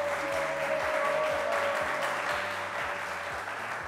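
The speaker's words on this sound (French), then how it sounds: "Par applaudissement, s'il vous plaît." A studio audience on a game show applauds to vote for a team. Steady, full clapping plays over a looping low musical backing that runs underneath throughout.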